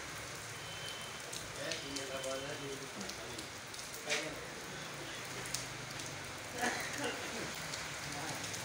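Heavy rain pours down in Allahabad as a steady, dense hiss that fills the whole stretch, with a voice briefly speaking over it now and then.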